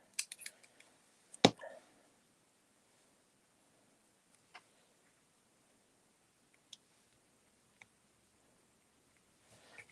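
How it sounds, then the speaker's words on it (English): Scissors snip plant leaves in a quiet setting: one sharp, close cut stands out among a few faint clicks and rustles spread sparsely across otherwise near-silent stretches. "We'll need to cut some more leaves."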